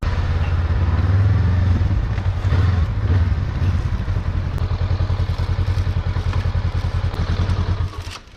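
A motorcycle engine runs loud and close with a steady rough drone and some rattling clatter, then drops off abruptly at the end.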